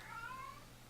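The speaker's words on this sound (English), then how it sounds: "my cat will be quiet the entire time until I start recording" A house cat gives a single drawn-out meow, fairly faint and close in a quiet room.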